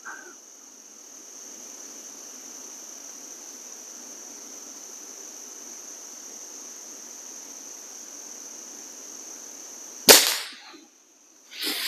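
One sharp shot from a Diana 250 air rifle cracks out near the end, close and loud, over a steady background hiss with a high insect-like drone.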